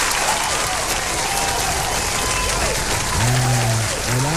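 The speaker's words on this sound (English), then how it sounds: "standing ovation" Standing ovation applause from a crowd at a live morning show, steady dense clapping throughout with a voice briefly speaking over it near the end.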